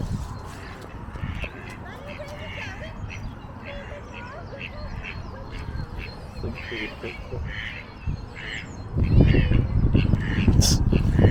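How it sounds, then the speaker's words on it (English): Ducks quack repeatedly in short raspy bursts at a moderate distance, with a person talking over them and a rumbling burst of noise near the end. "That's a hungry duck."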